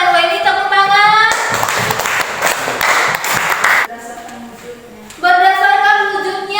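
Applause in a classroom as students clap for two classmates after a presentation, a dense burst of clapping lasting a few seconds between stretches of a teacher talking.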